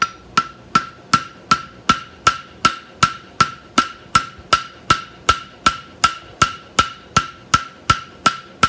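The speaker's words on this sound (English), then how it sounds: "and then we use the edge of the hammer again." A steady run of strikes with the edge of a hammer on metal, about two per second, each blow clanging with a short bright ring, loud and close.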